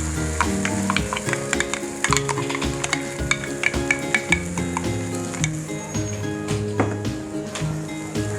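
Ground masala paste being stirred into onions frying in oil, with a steady sizzle and repeated scraping, clattering strokes of a spoon against the pan, all under continuous background music.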